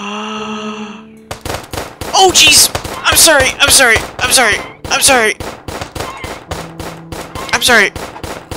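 Rapid bursts of gunfire from the video game Starbound, loud sharp cracks in quick irregular volleys after a brief tonal lead-in, with a short spoken apology in the middle.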